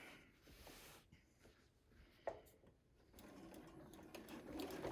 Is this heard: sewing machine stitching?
yes